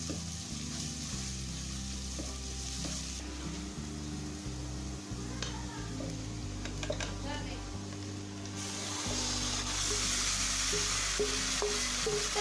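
Marinated chicken and onions fry in a pan to a constant sizzle, with spoon scrapes and stirring clatter coming and going and a steady hum beneath.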